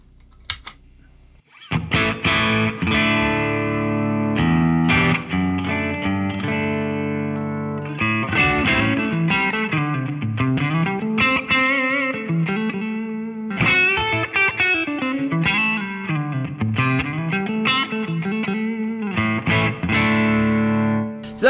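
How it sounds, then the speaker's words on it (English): Electric guitar through a Boss Katana amp and a green overdrive pedal plays a lively riff with bent notes and ringing chords, a gritty, crunchy tone, no talking over it. "So now let's bring in the G2, which is the green pedal."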